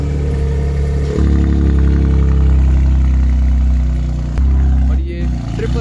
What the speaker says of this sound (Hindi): बीएमडब्ल्यू का एग्जॉस्ट देखो